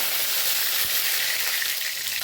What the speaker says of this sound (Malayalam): നമുക്കിതിനകത്തേക്ക് ആദ്യം കറിവേപ്പില ഇട്ട് കൊടുക്കുന്നുണ്ട് കേട്ടോ